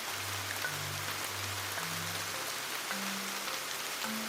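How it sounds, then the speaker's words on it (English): Steady rain falling, a constant dense patter without pauses, with soft low synth tones sounding underneath throughout. "It rains."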